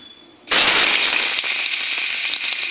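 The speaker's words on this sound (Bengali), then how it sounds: "আলুটি সয়াবিনটি ভাজা করে নেব।" Potato and soybean chunks coated in turmeric and salt hit hot oil in a wok: after a quiet moment, a sudden loud burst of crackling sizzle that stays strong and close.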